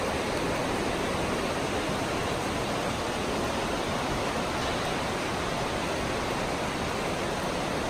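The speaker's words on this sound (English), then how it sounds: "I always think it's really cool how the river echoes off of that rock wall." A river rushing close by beside a rock wall, a dense, unbroken roar of flowing water that holds steady throughout with no voices.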